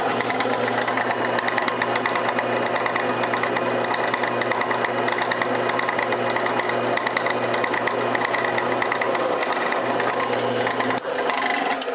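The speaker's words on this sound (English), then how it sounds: "we're actually just going to very carefully drill a hole into the top to create the center point" A steady, loud mechanical whirr of a drill boring a hole into a guitar top, running continuously for most of the clip, stopping abruptly near the end.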